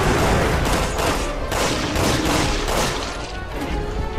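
Gunfire in Resident Evil 6, a loud, dense rapid series of shots, closely packed bursts rattling steadily for several seconds with no talk over them.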